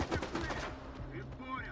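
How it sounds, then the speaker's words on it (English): Grenades go off in a first-person shooter set in the Zone, two blasts in quick succession with a heavy burst of loud bangs up front, then a rumbling tail with voices talking over it. "My first grenade triggered my second one."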